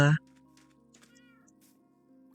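A cat gives one short, loud meow right up close at the start, followed by softer chirps and faint background sounds.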